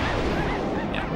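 A cannon fires in The Legend of Spyro: A New Beginning, a short, dense booming blast that fills the moment and fades quickly, with no voices over it.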